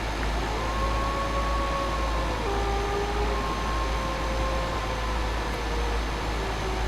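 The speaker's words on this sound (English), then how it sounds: "You hear the wolf?" A wolf howls in a forest in Euro Truck Simulator 2, heard as long rising and falling tonal wails that stand clearly above a steady low truck engine drone and road rumble.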